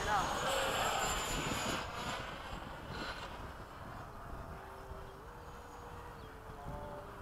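A 70mm model jet lands on a long runway, its turbine whine loud at first and then fading to a lower hum, with people talking nearby.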